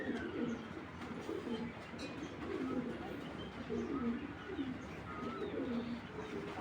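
Kitel pigeons coo softly in repeated low phrases, faint and somewhat distant, over steady background noise.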